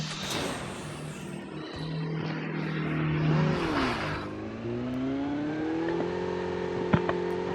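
A motorbike engine in a video game revs with a rising and falling whine that climbs steadily in pitch, loud and continuous over a broad background roar, with one brief sharp click near the end.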